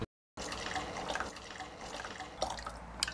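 Hot red grape juice is poured into a glass, a quiet trickling and splashing stream after a brief moment of silence, with a few louder drips near the end.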